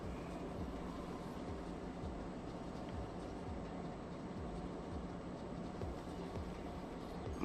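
Trains rumble through a station in the city-building game Cities Skylines, a steady low mechanical drone with repeating swooping passes and no voices.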